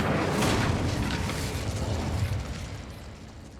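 A fire spell cast in Hogwarts Legacy, a broad roaring whoosh of flame that stays loud and steady before slowly tapering off, with no talk over it.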